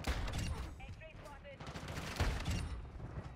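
Akimbo PDSW 528 gunfire in Modern Warfare 2, rapid bursts of shots rattling close up amid other in-game noise, dense and continuous for a few seconds.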